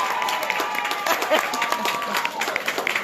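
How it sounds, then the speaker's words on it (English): Steady, dense applause from a rally crowd at an 8th Ward re-election event in a Chicago medical training center, with voices shouting faintly within the clapping. "somebody I want you all to give a great round of applause"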